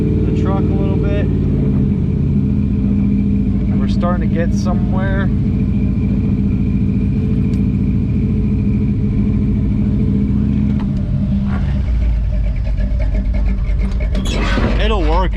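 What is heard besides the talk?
drag truck engine idling up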